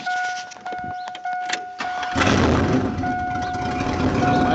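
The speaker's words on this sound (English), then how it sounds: "My noisy truck starts." Noisy truck on a cool morning: a few chime tones and clicks, then the engine cranks and catches about halfway through, settling into a loud, steady idle.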